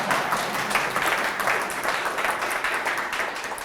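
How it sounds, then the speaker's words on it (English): An audience applauds a talk at a tech conference, with steady, fairly loud clapping that fills the hall and keeps an even density from start to finish. "Wait, I'm waiting for an applause."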